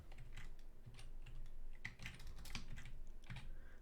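Keys tapped on a computer keyboard while entering text, scattered clicks over a few seconds, faint against a steady low background hum.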